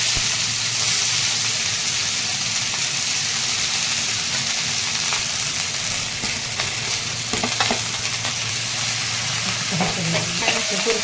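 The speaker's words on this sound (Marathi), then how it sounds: "हे अशी तेलामध्ये छान परतून द्यायची." Tender spring onion greens stirring and frying in hot oil with garlic, a steady loud sizzle with scraping stir sounds throughout, no voices.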